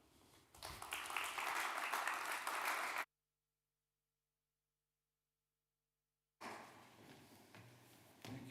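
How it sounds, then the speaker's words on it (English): Conference audience at the Ljubljana Forum applauding, a dense burst of clapping that cuts off abruptly, then resumes more faintly after a silent gap. "So please give Blaž a big round of applause."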